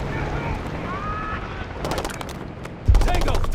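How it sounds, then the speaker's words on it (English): Gunfire in a desert battle mission of a military video game, bursts of rapid automatic fire over wind and background noise, with a heavier blast near the end. "We've got gunfire to the right."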